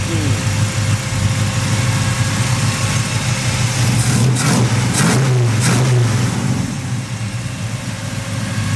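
A Chevrolet S10 pickup engine runs steadily at a smooth idle after its timing is set, loud and close throughout, with a voice talking briefly over the engine.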